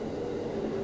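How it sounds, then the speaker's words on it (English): A JR Biwako Line local train pulls into Seta Station with a steady, fairly loud rumble and hum that holds without a break. "So as you can see, the train making its way in here."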